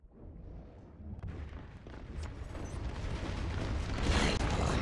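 Heavy machine gun from the video game Natural Selection 2 firing in a sustained, dense rattling burst that swells louder toward the end, with mechanical clatter and booming game effects around it.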